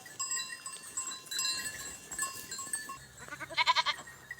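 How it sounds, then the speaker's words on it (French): Goats bleat in a short series of nasal, wavering calls near the end, over a quiet outdoor farm background with faint metallic clinks. "Ces 60 chèvres"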